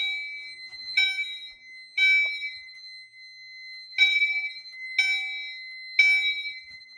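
A fire alarm panel triggered by a two-wire smoke detector in a home demo system rings a repeating bell-like electronic chime, five loud pulses about a second apart over a steady high tone, with no talk.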